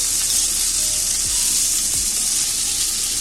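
Sliced onions sauté in hot coconut oil for a Malabar-style fish biryani, giving a loud, continuous sizzle with a couple of soft utensil knocks in the pan.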